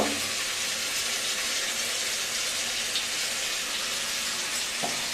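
Goat head curry masala with potatoes and turmeric being fried down in a pan: a steady, even sizzling hiss at moderate loudness, with a faint utensil knock near the end and no talking.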